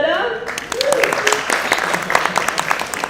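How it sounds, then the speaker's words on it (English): Audience applause at a TEDx event starts after a speaking voice and continues as a moderate, steady patter of many hands, with talk still faintly threading through it. "Can we have a round of applause for this beautiful setup?"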